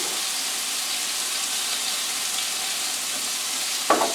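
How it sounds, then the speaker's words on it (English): Chopped onions sweating in a hot pan give a steady, close sizzle that holds evenly throughout, with a short clatter right at the end. "We'll add our little bit of onions here and let them sweat out a little bit."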